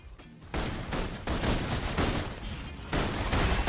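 Suppression gunfire in the Love and Deepspace video game, bursts of rapid shots in several loud surges separated by short gaps.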